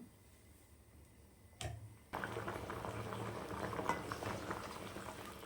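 Goat head curry simmering in a pot, quiet at first, then after a brief knock a steady, soft bubbling and popping of boiling liquid that carries on to the end.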